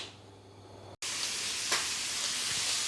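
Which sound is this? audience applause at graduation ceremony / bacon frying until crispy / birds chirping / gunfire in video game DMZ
bacon frying until crispy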